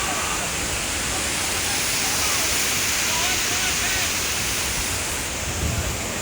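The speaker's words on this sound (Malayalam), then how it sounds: "അപ്പോൾ ഇതാണ് ഷിൻറ്റി ഫാൾസ്." Chunchi Falls, running low on water, pours as a constant broadband rush of falling water, steady and fairly loud with no breaks.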